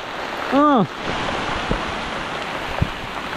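Heavy rain pours steadily beside a rice paddy, a constant close hiss that fills the whole stretch, with a brief voice sounding early on and a few small knocks.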